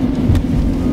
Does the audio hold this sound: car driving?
yes